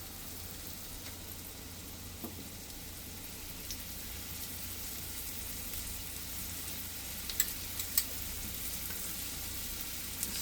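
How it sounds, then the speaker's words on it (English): Chicken frying in browning butter on a stove, giving a faint, steady crackling sizzle with a few louder pops and no talking. "the butter's kind of browning, which is good"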